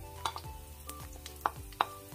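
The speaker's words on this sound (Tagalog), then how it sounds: "Pag mainit na, lagay na natin ang bawang." Garlic dropped into hot oil for mussel tinola, a soft sizzle with scattered clinks and scrapes of a utensil against the pan, a few sharper metallic taps standing out.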